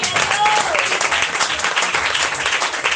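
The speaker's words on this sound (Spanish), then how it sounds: "Denle un aplauso al Señor," Church congregation applauding during a Spanish-language worship service, a dense, loud wash of clapping from many hands that holds steady throughout, with faint voices mixed in.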